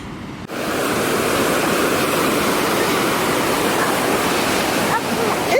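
Surf on a beach roars as a dense, continuous wash of breaking waves, loud and close, with no pauses between swells.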